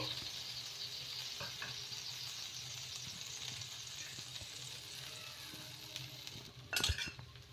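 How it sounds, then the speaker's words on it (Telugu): Peanut dosa batter spread thin on a hot pan, giving a steady, close sizzle with soft scraping as it is spread, and a brief louder clatter near the end. "మరి దోశ వేసుకోవడమే ఇలా కొంచెం ఈ విధంగా స్ప్రెడ్ చేసేసుకుంటే చాలా మెత్తగా చాలా బాగుంటుంది"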